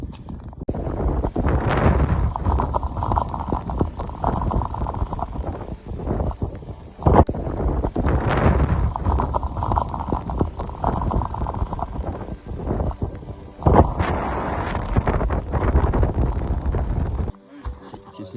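Strong wind roars and buffets the microphone during a freezing mountain storm on the Tour du Mont Blanc trail, loud and continuous with gusty swells, while people talk over it.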